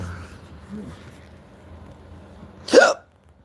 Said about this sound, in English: How the hell do Hershey bars give me hiccups?